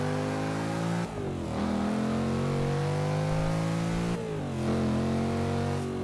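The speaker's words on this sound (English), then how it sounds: "The engine in this thing sounds really tame." Muscle car engine on a race track, revving up through the gears with rising tones and two clear shift dips, loud and close with no talk.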